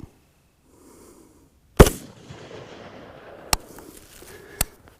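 Rifle at an outdoor range set up for a 10-yard zero fires one loud, sharp crack followed by two more spaced shots, each with a brief echo against a quiet, breezy background.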